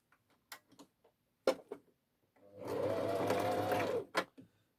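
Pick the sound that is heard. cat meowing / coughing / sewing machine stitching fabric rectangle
sewing machine stitching fabric rectangle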